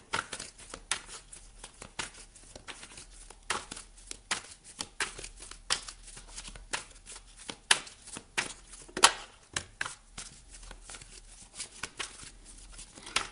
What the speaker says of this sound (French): Je vais rajouter quelques cartes ici.